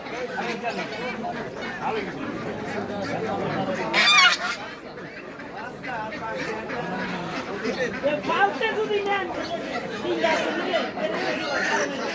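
Desi chickens and other fowl cluck and squawk amid the busy chatter of a village poultry market, with people talking loudly throughout and a sharp bird call rising briefly near the middle.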